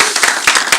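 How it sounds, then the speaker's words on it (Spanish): A church congregation claps hands for the King during a worship service, with a burst of quick, loud, overlapping claps over less than a second. "Dele fuerte las palmas al Rey."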